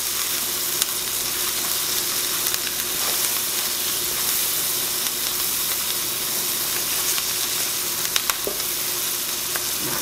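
Spices and butter sizzle and crackle steadily in a hot pan, a dense continuous frying hiss with no voices over it.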